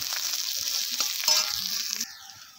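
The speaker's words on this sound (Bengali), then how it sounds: "পেঁয়াজটা একটুখানি ভেজে নেব।" Chopped onions sizzling and frying in a pan for a soybean, papaya and potato dish, with steady close-up crackle and a brief stirring scrape, no talking.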